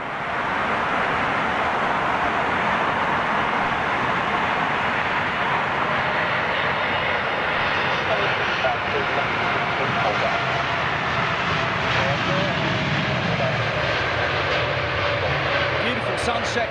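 A jet airliner departing the airport at sunset, heard as a loud, sustained roaring engine rumble that swells and slowly fades as it climbs away, with people talking briefly over it.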